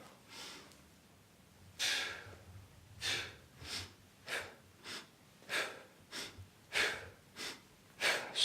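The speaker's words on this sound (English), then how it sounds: "In through the nose, out through the mouth. Try to slow those exhales down," Slow, deep breaths during an at-home strength and endurance workout with weights, drawn in through the nose and pushed out through the mouth. About ten breathy pulses come at a steady pace, close and clear.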